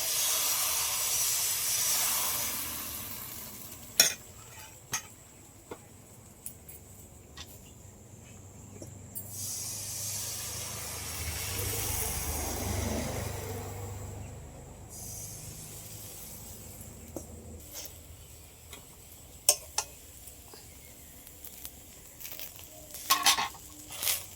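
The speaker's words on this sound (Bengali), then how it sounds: "প্রথমে এক হাতা ব্যাটার দিয়ে দিচ্ছি কড়ার মধ্যে" Patishapta crepe batter, a ladleful, sizzles softly in a kadai, swelling into a louder hiss midway, with scattered clinks and taps of utensils around it.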